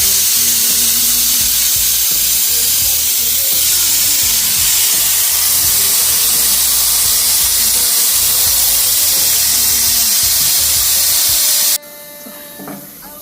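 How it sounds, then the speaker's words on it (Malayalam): A kitchen pressure cooker holding tapioca and taro vents steam in a loud, continuous hissing whistle that runs for about twelve seconds, then stops abruptly, leaving quieter room sound. "രണ്ട് വിസിലായിട്ടുണ്ട്"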